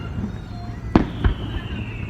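Fireworks bursting during a 4th of July show in Palm Springs: two sharp booms about a third of a second apart over a low background rumble, at moderate distance.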